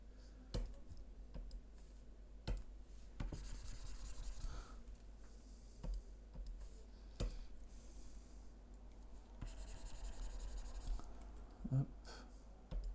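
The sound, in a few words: erasing pencil drawing on paper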